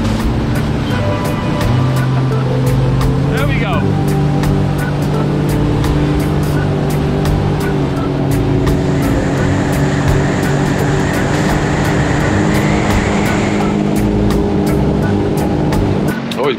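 Sea-Doo Switch pontoon boats drag race on open water, their engines droning loud and steady throughout while wind buffets the mic and spray and waves hiss alongside, with voices faintly mixed in.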